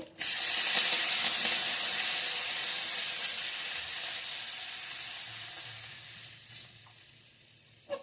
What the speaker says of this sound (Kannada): ಈಗ ಸ್ವಲ್ಪ ಕರಿಬೇವು ಹಾಕ್ಕೊತಾ ಇದ್ದೀನಿ